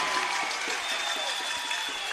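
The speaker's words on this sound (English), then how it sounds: "he brings the crowd to life" Crowd at a 2019 grand final basketball game between Manly Warringah Sea Eagles and Central Coast Crusaders cheering and applauding steadily, a dense continuous roar of clapping and voices filling the whole stretch.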